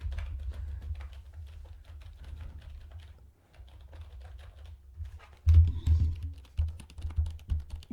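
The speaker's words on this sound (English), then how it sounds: "Got a gamer keyboard." Rapid clicking keystrokes on a gaming computer keyboard, a steady close patter of typing with a brief pause and a burst of heavier taps near the end.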